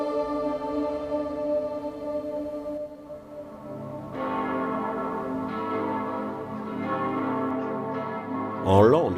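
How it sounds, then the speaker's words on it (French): Church bells of Santiago ringing in full peal, a dense, sustained wash of overlapping tolls that swells midway and ends in a bright clash of struck bells, with faint low background underneath. "les cloches de Santiago se mettaient à sonner à toute volée"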